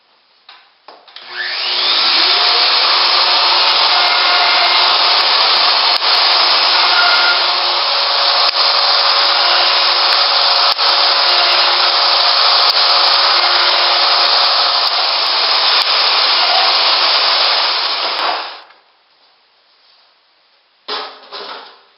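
A Festool LR32 plunge router, set to speed 6, whines loudly and steadily for about sixteen seconds while drilling shelf-pin holes, then spins down and stops, followed by a few brief clicks.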